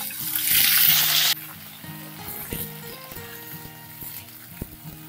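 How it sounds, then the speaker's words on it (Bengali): Potato pieces hit hot mustard oil in a pan with a loud burst of sizzling that lasts about a second, then settle into a quieter, steady frying hiss with faint low background tones. "তেল গরম হয়ে গেছে, এবারে আলুগুলো ভেজে নেব।"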